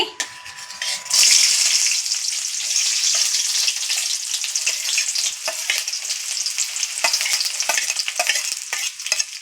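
Chopped onions and green chillies hit hot oil for a beans gravy curry, bursting into a loud hiss that settles into a steady sizzle with intermittent stirring scrapes, close up and with no talking.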